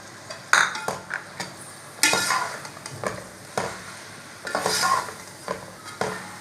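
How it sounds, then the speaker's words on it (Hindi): Okra fries in a pan with green chillies and tomatoes. A low sizzle runs throughout, and a spatula strikes and scrapes the pan at irregular intervals, some strokes louder than others, with no talking. "इसे थोड़ा भून लेना, टमाटर थोड़े गल जाए।"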